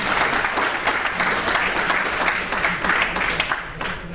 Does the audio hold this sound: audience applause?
yes